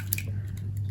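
Eggs are cracked into a bowl for a soft Italian pie batter, giving a quick, faint crack and a soft wet squish over a steady low background hum.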